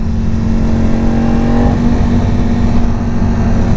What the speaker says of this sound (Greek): Σήμερα έχουμε στα χέρια μας Ducati Panigale V4